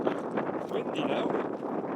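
Wind gusts across an exposed hillside on the West Highland Way near the Devil's Staircase, a steady rushing buffet on the microphone with a voice faintly mixed in.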